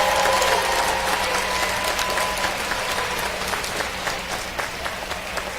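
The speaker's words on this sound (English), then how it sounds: "How about one more round of applause for all these A-plus schools?" An audience at a school district recognition night gives a round of applause, dense clapping that starts loud and thins gradually toward scattered claps.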